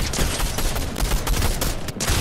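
Continuous dense gunfire in a video game during a clutch round, sustained and loud throughout with no clear gaps and no voices heard.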